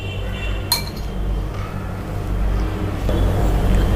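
A spoon stirs sweet corn snack ingredients with coriander leaves in a bowl, giving a sharp clink followed by soft, scattered scraping and tapping, with no talk.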